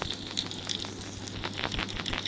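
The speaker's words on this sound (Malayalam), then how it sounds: "മൊത്തം തീയാണ്" Fire burning in a video game set around a burning house, a steady roar with scattered crackles and pops, fairly close and continuous with no talk.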